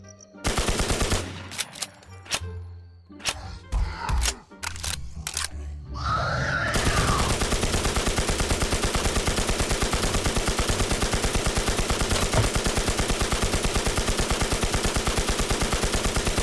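Gunfire from a gun in the 2020 survival game Infestation Survivor Stories: a few scattered loud shots with pauses give way to a sustained, rapid machine-gun stream that stays loud and steady to the end.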